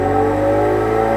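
A 2019 Chevy Camaro with a 4-cylinder turbocharged engine holds a steady, loud drone with a strong low hum, heard up close and alone for a brief moment.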